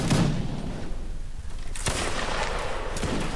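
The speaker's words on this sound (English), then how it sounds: "Keep firing, guys, keep firing." A musket volley cracks out in the Napoleonic Wars line-battle game, with a loud opening report and further scattered shots rolling through a noisy battlefield.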